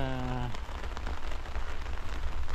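Cool rain falls steadily over an outdoor dig for a pond, a close, continuous patter; a voice speaks briefly at the very start before the rain carries on alone.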